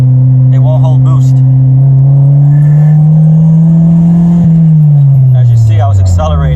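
A turbocharged D16 Honda Civic pulls hard on a test drive, its loud engine drone rising steadily in pitch, then easing off near the end, with faint spoolup noises on top.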